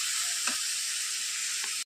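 Curry leaves sizzle steadily in hot oil in a pan as they are stirred, a close, continuous hiss with a couple of soft scraping stirs, cutting off abruptly at the end.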